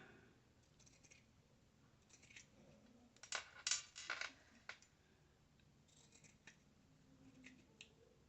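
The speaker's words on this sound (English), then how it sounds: "Do we want to trim that down?" Scissors trim fabric for a button and flat-back charm cluster, giving a few quiet snips clustered near the middle with soft handling noise between, close and faint, no talking.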